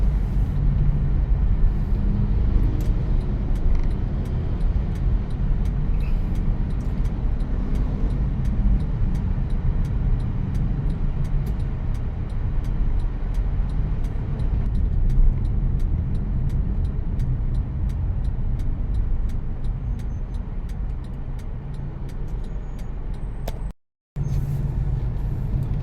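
Steady road traffic in stop-and-go congestion near a wire company, with cars, buses and trucks idling and rumbling close by as a continuous low drone, briefly cut near the end.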